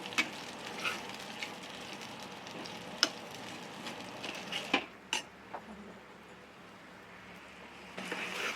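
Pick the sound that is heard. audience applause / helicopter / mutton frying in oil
mutton frying in oil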